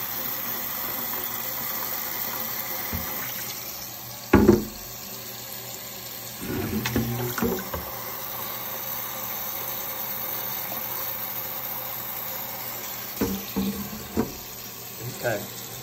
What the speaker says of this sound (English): So what you're going to do is you fill this water up until it gets right above that little dimple.